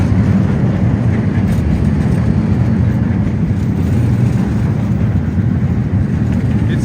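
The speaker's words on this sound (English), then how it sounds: "there you go, another metro." A Porto metro train rolling past along the riverside, a steady loud rumble of wheels and motor close by that holds evenly throughout, with faint street ambience around it.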